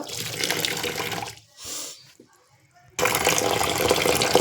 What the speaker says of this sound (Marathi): हे तांदूळ आहे ना दोन तीन पाण्यानं धुवून घ्यायचे आपल्याला